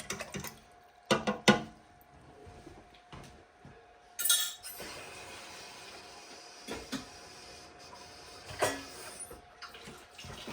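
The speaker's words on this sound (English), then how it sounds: "We want to stir it, we want it to dissolve." A utensil stirs a mixture in a bowl for Cajun-style pork chops, bright clinks and scrapes coming in short bursts between quieter moments, close and moderately soft.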